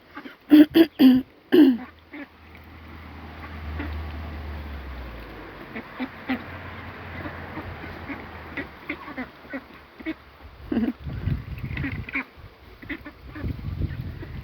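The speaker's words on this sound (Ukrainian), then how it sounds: "Але ж це ж качки" Ducks near a marshy village yard quack in a few sharp bursts at first, then scattered softer quacks and honks over low rumbling background, with a voice clearing its throat nearby.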